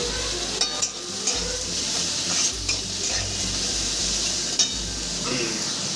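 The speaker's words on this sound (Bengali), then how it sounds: "ঝিঙ্গাটাকে জল শুকানো অবধি সুন্দর করে ভেজে নেবো" Ridge gourd fries in oil with a little salt for shukto, a loud continuous sizzle broken by periodic sharp spatula taps and scrapes against the pan.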